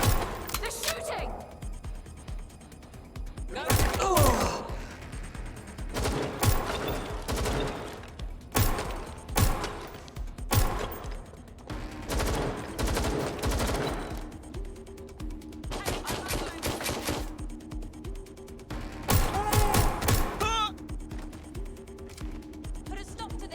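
Gunfire in a Watch Dogs Legion shootout: bursts of shots crackle repeatedly across the scene, mixed with mechanical clatter and game noise, with voices shouting over the fighting.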